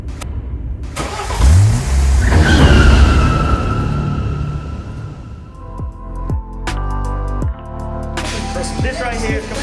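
A stock car with its factory exhaust fires up and revs, giving a deep rumbling engine swell that rises and falls with a few sharp blips and clunks, close to the microphone and without talk.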